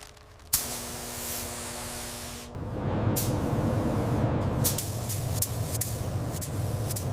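A spray gun hisses steadily as paint goes onto a 1957 Chevrolet Bel Air, a bright continuous spray that cuts in after a sharp click, followed by a louder, rougher hiss with brief bursts.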